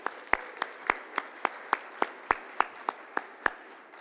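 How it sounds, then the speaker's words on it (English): At a corporate executive awards event, an audience claps for sponsors: a sparse, steady run of individual hand claps at an even pace, fairly faint in a quiet room. "Would you join me in clapping for them and thanking them?"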